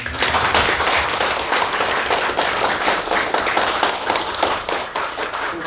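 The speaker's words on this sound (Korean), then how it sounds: "그래서 오늘 지금 이런 자리를 만들어주신 우리 성훈 코치님께 박수를 한번 주겠습니다." Attendees at a 2018 Korean Buddhist studies society winter workshop applaud, loud close clapping from a room full of people that holds steady for several seconds with no talk over it.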